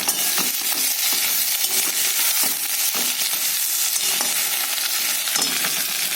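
A hilsa curry base with turmeric sautés in hot oil, sizzling steadily, while a spoon scrapes and stirs at irregular intervals close by.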